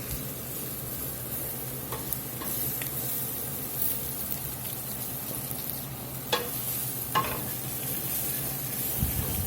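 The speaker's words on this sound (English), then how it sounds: "We're going to let this flour cook here a few minutes. Get that raw taste out of it. Just keep stirring it." Flour stirred and cooked in a pan for gravy gives a soft, continuous sizzle and hiss, with occasional spoon scrapes and clinks against the pan, close but fairly quiet, and nobody speaks.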